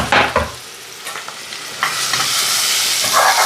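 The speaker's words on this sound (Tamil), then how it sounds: "போட்டுட்டு இந்த வெங்காயமும் கருவேப்பிலையும் போட்டுருவோம்." Oil sizzles and crackles steadily as onions and curry leaves are stirred in a pan, with a few sharper spatters near the start.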